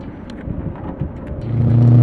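A 2003 Mustang Cobra with a full Bassani catback exhaust and off-road H-pipe pulls away, its deep rumble idling and then swelling into a loud, rising rev as the car accelerates.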